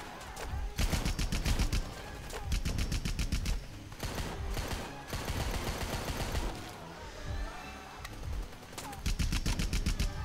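Gunfire in the shooter video game Rambo The Game, loud bursts of rapid automatic fire separated by short pauses, with single shots and explosive echoes between the volleys.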